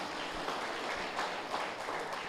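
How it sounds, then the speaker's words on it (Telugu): An audience at a spiritual discourse applauds in a sustained, dense wash of clapping that holds fairly steady throughout. "ఓసారి గట్టిగా చప్పట్లు కొడతారా?"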